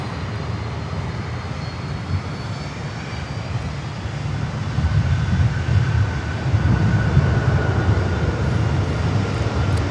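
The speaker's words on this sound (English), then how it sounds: "Dreamliner from Dallas" Boeing 787 Dreamliner jet airliner from Dallas at Miami airport, a steady loud engine roar in the distance that swells slightly toward the end.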